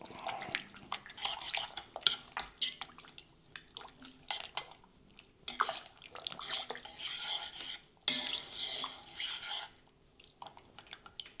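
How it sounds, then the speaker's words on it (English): Boston baked beans stirred in a pot, a quiet stretch of wet scraping and spoon clinks against the pot's sides, soft and close with no talking. "Give it all a good mix in."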